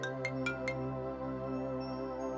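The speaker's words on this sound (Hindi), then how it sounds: "अचानक उसका फोन रिंग हुआ।" A ringing phone in a narrated Hindi horror story sounds as a quick run of four bright chiming tones at the start, followed by a soft sustained tonal bed, with no voices.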